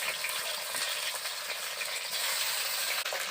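Pointed gourd (potol) fries in a pan, giving a soft steady sizzle with light crackles throughout, quiet and close, with no talking.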